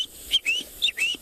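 A person imitates a spur-winged goose's call with four short, high-pitched whistled tweets in two quick pairs, close and fairly quiet.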